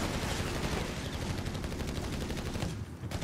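.30 cal machine gun in the Company of Heroes 3 strategy game fires a sustained, loud, rapid burst of rhythmic shots that tails off near the end.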